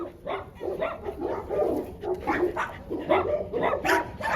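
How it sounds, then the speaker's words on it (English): Several dogs at a breeding kennel bark repeatedly in an irregular, overlapping run, fairly close and loud, with some whimpering yips mixed in. "Very, very solid dogs, yeah."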